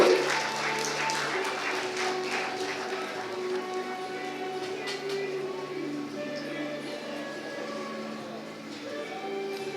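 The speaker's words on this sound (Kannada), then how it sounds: "ಜೋರಾದ ಚಪ್ಪಾಳೆಯೊಂದಿಗೆ ಶ್ರೀಯುತ ಅಬ್ದುಲ್ ಹಮೀದ್ ರವರನ್ನು ಪ್ರೋತ್ಸಾಹಿಸಬೇಕು" Loud, sustained applause from an audience fills an inaugural awards ceremony as an award recipient is honoured; the clapping holds steady, with a tonal hum running underneath.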